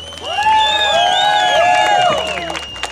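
A festival crowd cheers loudly, with high whoops and whistling shouts rising and falling over a steady bed of clapping and crowd noise, close and continuous for a few seconds.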